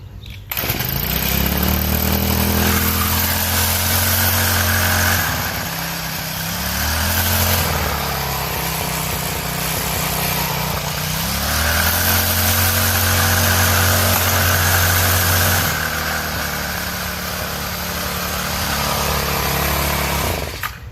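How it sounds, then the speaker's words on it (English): A 15-year-old Echo SRM-225 string trimmer engine runs after a cold start, a loud, steady buzzing drone with several rises and dips in pitch as it idles and revs over about twenty seconds, no voices. "it fired right up with one pull"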